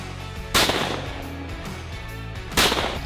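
Two loud shotgun blasts ring out at a major US Open shotgun shooting competition, spaced about two seconds apart, each a sharp crack with a brief rolling echo over a low background rumble.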